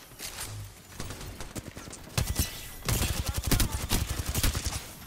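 Gunfire in the battle royale game Apex Legends comes as a string of sharp, rapid shots that grows denser and louder through the second half, with sparse quieter shots before it.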